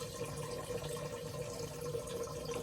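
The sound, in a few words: water bottle filling a water bowl in a snake enclosure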